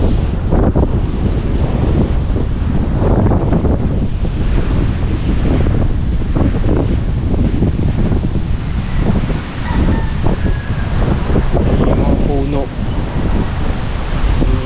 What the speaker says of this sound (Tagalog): Hampas ng hangin.